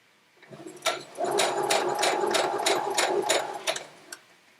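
A speed-limited sewing machine stitches a quilt in a steady, rapid run of needle strikes, close and clear, starting and stopping after about three seconds of even rhythm.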